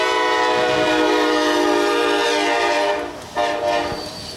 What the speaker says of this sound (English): the train just had to come by